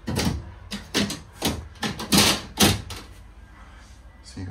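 A pull-out drying rack in the shower of a 2023 Element 27 motorhome built on an IVECO Daily 72C210 slides out with a run of close clacks, rattles and knocks, a quiet gap following.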